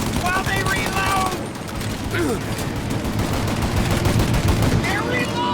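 Sustained gunfire during a shootout in Mafia Definitive Edition, dense overlapping bursts and rattling shots, loud and close throughout, with shouted voices mixed in.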